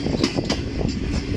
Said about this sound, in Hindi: हमारी गाड़ी कर्व ले रही है कॉर्ड लाइन पर